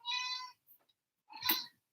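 A cat meows twice in quick succession, close and clear, the second call shorter and harsher, with silence between.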